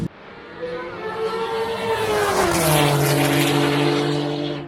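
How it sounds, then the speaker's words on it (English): Race cars start a drag race, engines rising in a loud roar, the pitch sweeping up and then holding as they accelerate away at a distance. "Sounds like the racing's starting."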